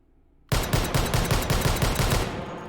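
Rapid string of Desert Eagle .50 AE long-slide pistol shots fired in the H3VR virtual reality game, about eight to ten loud, evenly spaced reports after a short quiet start, with no talking.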